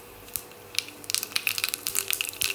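Mustard seeds spluttering in hot coconut oil in a pan for an apple mango curry, a run of sharp crackling pops that starts sparse and grows dense and steady, close and fairly loud, with no voices.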